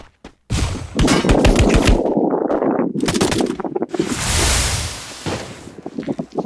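Gunfire in the video game Free Fire comes in rapid automatic bursts and sharp shots, loud and close, separated by short pauses and a stretch of windy hiss.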